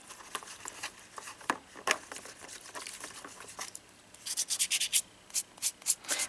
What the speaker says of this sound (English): if you choose to do the sanding like this